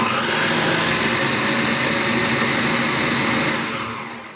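A kitchen blender whirs steadily and loudly for about four seconds while blending homemade lemonade with water, then winds down at the end.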